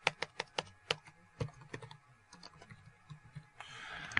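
Quick clicking taps on a computer keyboard as an address is typed, a burst of crisp keystrokes close by, then a few scattered clicks, with no talk.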